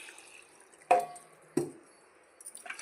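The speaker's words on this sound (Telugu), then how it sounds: "వాటర్ పోసుకోవాలి." Water is poured into a moong dal and spice mixture for cooking, heard as two close splashes and faint trickling in a quiet kitchen.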